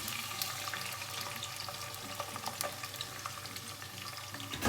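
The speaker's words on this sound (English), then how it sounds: "we pour the oil inside in the saucepan, getting it nice and hot" Steady sizzling of vegetables frying in hot oil in a saucepan, close by, with faint clinks and stirring sounds throughout.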